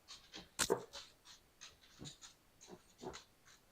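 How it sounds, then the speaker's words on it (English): A pit bull pants under a desk at someone's feet, a soft, rhythmic series of quick breaths close by with one louder snort or shake early on, faint indoor quiet around it. "that's my dog"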